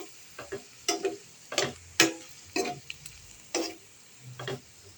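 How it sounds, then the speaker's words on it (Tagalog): A utensil stirs pork liver adobo in a pan, giving about eight separate scraping strokes in an uneven rhythm, each one close and sharp against a quiet background. "Tapos i-mix natin konti."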